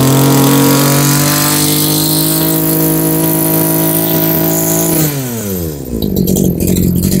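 A used Japanese Robin brush cutter's small petrol engine running after a pull start, droning loudly and steadily close by before its pitch sags and shifts as the throttle changes near the end.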